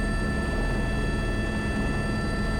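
An H125 helicopter hovers steadily while slinging a 36 m long line, giving a loud, continuous rotor and turbine roar with a constant whine on top and no talking.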